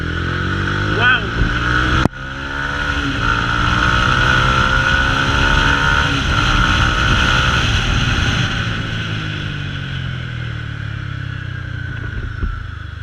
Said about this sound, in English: the bike is reaching higher speeds much faster than the stock bike